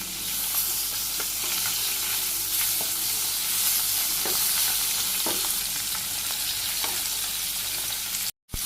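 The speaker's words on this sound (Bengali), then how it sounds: "তেল গরম হয়েছে, মাছগুলো দিয়ে দিই একে একে" Fish frying in hot oil in a Bangladeshi village kitchen gives a steady, close, even sizzle. Occasional soft clicks break it, and it cuts out briefly just before the end, with no talking.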